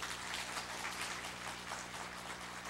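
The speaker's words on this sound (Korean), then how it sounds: "우리 목사님 나오실 때 뜨거운 박수로 축복하고 환영합니다" A church congregation at a Sunday service claps warmly to welcome the pastor: a steady, dense wash of applause with a faint low hum beneath it.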